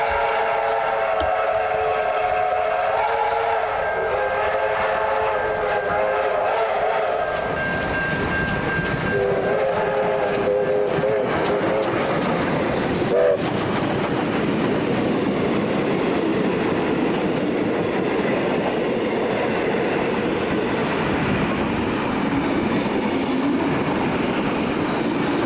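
A steam excursion train runs through a country station, its whistle sounding in long tones before the loud, continuous rumble and clatter of the locomotives and carriages rolling past close by.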